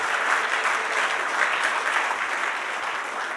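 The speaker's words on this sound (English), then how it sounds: "Give him a round of applause." An audience at a live interview event gives a sustained round of applause, dense and even clapping heard alone for over three seconds.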